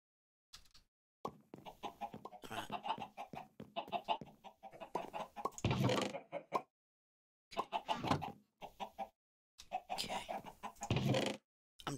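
Chickens cluck in short bursts separated by brief silences, close and fairly loud, with some louder squawking calls in the middle, no talking.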